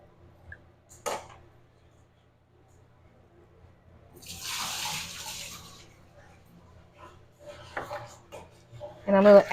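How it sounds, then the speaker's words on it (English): Cooked noodles for a stir fry are drained at a kitchen sink, water pouring and splashing in a rushing burst amid a few knocks of cookware, ending in louder clattering near the mic. "I'm going to drain the noodle"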